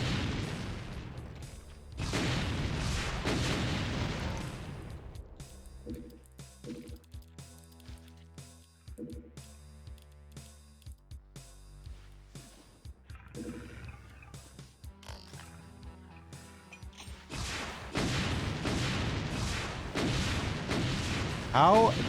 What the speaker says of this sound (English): How did all those rockets explode right near the enemies but didn't explode that barrel at all?